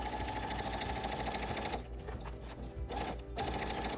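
A sewing machine stitches fabric for a small-pet hammock, a steady, loud mechanical whir that runs continuously, dips briefly midway, then resumes at full speed.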